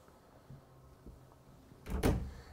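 Soft-closing dovetail drawer in a 2022 Renegade Verona LE 40LTS motorhome, heard as a quiet room with faint light knocks, then one muffled thud as the drawer eases shut near the end.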